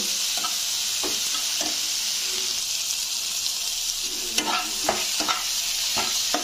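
Chopped onions and tomatoes fry in a pan for a shingi fish curry, with a steady bright sizzle throughout and a few sharp utensil scrapes and taps from stirring near the end.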